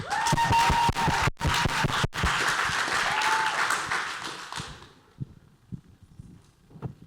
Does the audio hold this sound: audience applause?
yes